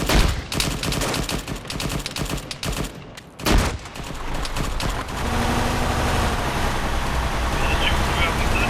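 Dense bursts of automatic and single-shot gunfire from a military video game patrol in Takistan, crackling rapidly and loudly, with a brief lull before the shooting resumes under a steady engine rumble and occasional voices.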